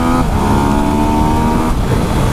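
A 2017 Yamaha MT-09 motorcycle accelerating hard at 75% throttle in A mode, a loud close engine roar rising steadily in pitch, briefly dipping at a gear change before pulling again, with wind rush.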